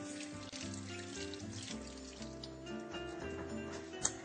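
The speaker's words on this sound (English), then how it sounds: "Let me just wash my hands." Running water from a kitchen tap while hands are washed at the sink during dessert preparation, a steady splashing flow over faint background music with a brief clink near the end.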